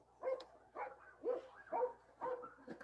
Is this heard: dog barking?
yes